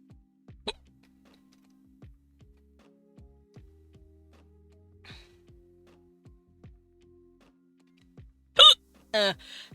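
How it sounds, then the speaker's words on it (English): A person hiccups repeatedly in a quiet room, sharp little gulps spaced a second or so apart, with a couple of louder, longer vocal bursts near the end. "help me, I have hiccups."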